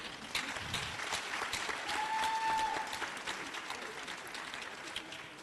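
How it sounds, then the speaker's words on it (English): A panel discussion audience gives a sustained round of applause for Dr. M.M. Omokaro, steady dense clapping from a crowd filling the room, swelling slightly in the middle and holding for several seconds. "Shall we give a resounding round of applause to Dr. M.M. Omokaro?"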